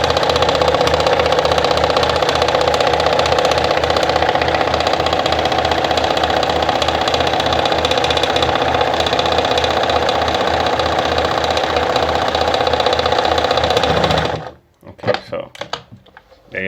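A Pfaff 210 sewing machine running steadily while stitching a closer zigzag, with a loud, even mechanical rattle throughout before stopping abruptly near the end, followed by a few faint handling noises.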